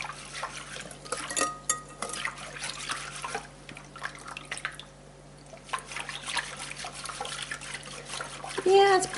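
Apple cider liquid for rye bread dough being stirred, giving soft sloshing and dripping water sounds that stay fairly quiet throughout, with small splashy accents near the end.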